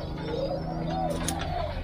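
Spotted doves kept in breeding cages coo softly, low repeated rolling calls from several birds against a faint background hum, with a brief higher chirp midway.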